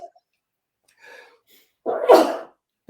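A single sharp sneeze, close and fairly loud, preceded by a faint intake of breath, in an otherwise quiet moment.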